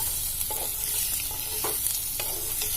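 Onions stirred in a pan with chili and garlic paste, frying with a steady sizzle under irregular scraping strokes of the spatula, close and moderately loud, no talk.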